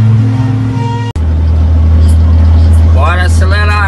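A heavily lifted VM truck with 38 leaf springs idles with a steady low hum, then its engine climbs in pitch as it accelerates near the end, with someone talking over it.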